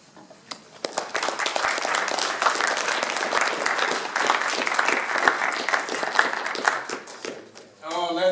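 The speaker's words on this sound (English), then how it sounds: "let's give Dr. Hari Shankar another round of applause." An audience at a memorial lecture breaks into sustained applause, many hands clapping densely and loudly for several seconds before it fades out and a voice begins.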